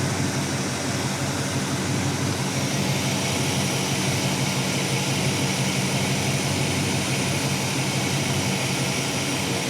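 A restored 1979 Chevy square body truck engine idles steadily at about 700 rpm right after its first start, a continuous, even, close-up rumble with a fan whirring, no talk over it.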